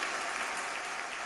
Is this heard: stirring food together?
no